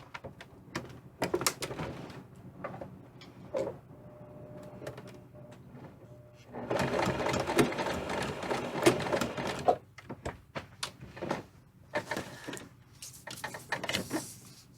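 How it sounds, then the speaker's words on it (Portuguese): A sewing machine stitches a short seam in fabric for a fabric toiletry bag, with quiet intermittent bursts of rapid clattering stitching between pauses and small handling noises, close and soft. "E vou fazer uma costura de 2 pontinhos aqui só. Nesse sentido."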